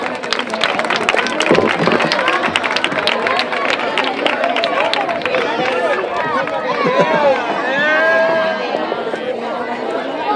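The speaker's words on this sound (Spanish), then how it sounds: "Un aplauso." A crowd at a romería prize announcement in Algaida in 2014 claps steadily and loudly for several seconds, with chatter and voices mixed through the applause.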